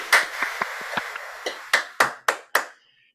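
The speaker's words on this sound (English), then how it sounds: "let's unmute yourself and let him hear real applause" A small scattering of real hands clapping for an online audience, about ten separate claps spread unevenly over three seconds, fairly close and sharp, with no talking.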